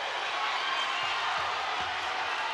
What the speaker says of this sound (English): the crowd getting fired up